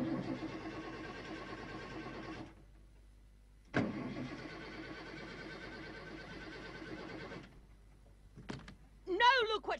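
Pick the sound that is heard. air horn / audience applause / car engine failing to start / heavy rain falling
car engine failing to start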